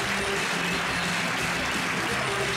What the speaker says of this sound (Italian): E dopo questo caloroso applauso finale